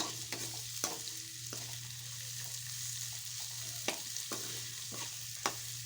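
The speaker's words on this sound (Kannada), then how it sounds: "ಆಮೇಲೆ ಟಮಾಟೆ ಹಾಕ್ಬೇಕು." Tomatoes frying in oil with softened onions and potatoes for a potato sausal, a continuous close sizzle punctuated by occasional sharp spoon scrapes and taps as the mixture is stirred.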